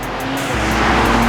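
A 2024 Nissan Z NISMO's twin-turbo engine pulls hard under throttle, a loud, steady roar that builds in pitch with a faint tire hiss, no voices.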